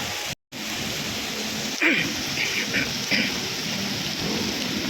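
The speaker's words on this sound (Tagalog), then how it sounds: "Talaga, bigla na naman lumakas." Heavy rain pours in a dense, steady hiss, with a brief dropout and a few faint thuds and tones rising above the downpour.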